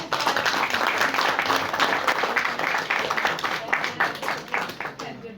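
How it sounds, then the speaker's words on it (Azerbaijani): Audience applause at a documentary film event, steady clapping from many hands filling the whole stretch and tapering slightly at the end. "Bir daha alqışlayaq."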